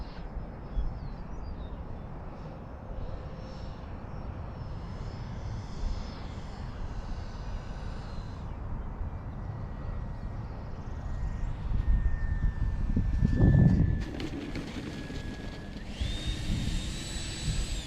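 An FMS Rafale 80mm EDF model jet flies past with a steady, airy ducted-fan whine that rises in pitch and swells louder around the middle as it passes close, then carries on at a moderate distance.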